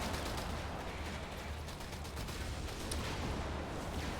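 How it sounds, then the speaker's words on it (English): Explosions and gunfire rumble through a Company of Heroes 3 battle, a continuous dense barrage of booms and shots that stays loud for the whole stretch, with no talking over it. "My god, the explosions."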